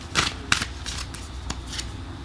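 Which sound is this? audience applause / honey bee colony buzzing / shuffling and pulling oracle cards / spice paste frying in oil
shuffling and pulling oracle cards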